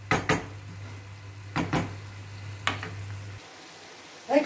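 Liver cooking in a pan, Venetian style (fegato alla veneziana): a soft sizzle under a low steady hum, broken by a few sharp clanks of a utensil against the pan, with no talking.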